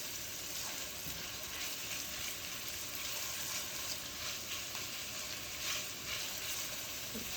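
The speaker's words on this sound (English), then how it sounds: "because you don't want the garlic to be burned, else it's gonna be bitter. So stir it away." Garlic sizzling in a pan for garlic shrimp in coconut milk, giving a steady, fairly quiet frying hiss with faint scraping from stirring throughout.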